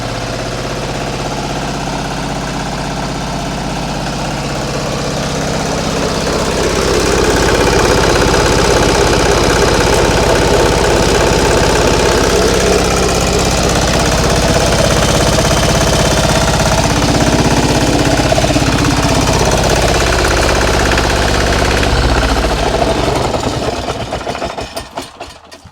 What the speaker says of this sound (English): Is that too much smoke for an old lister that has been standing for an unknown time period?